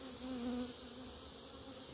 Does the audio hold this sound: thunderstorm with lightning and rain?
no